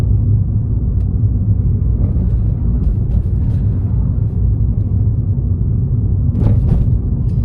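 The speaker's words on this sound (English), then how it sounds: "As you go over the bumps, every speed bump is a little bit different." A car rolls along a residential road with speed bumps, producing a steady low rumble of engine and tyres from inside the cabin, loud and continuous, with a few faint thumps and rattles but no distinct jolts standing out.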